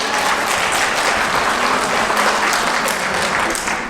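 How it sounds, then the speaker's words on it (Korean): Sustained, dense applause from a church audience for a priest after his special lecture on the Book of Wisdom at a Catholic charismatic prayer meeting. Steady, loud, crowded clapping runs the whole stretch with barely a voice beneath it. "오늘 저희들에게 지혜서 특강을 내주신 신부님께 다시 한번 큰 박수 드립니다"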